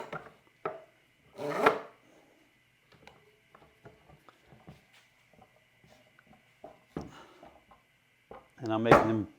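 Harbor Freight Bremen K-body parallel clamps cranked tight on pine boards, giving scattered close clicks, ticks and knocks of the screw handles and jaws, with a couple of louder thumps and a low voice talking briefly.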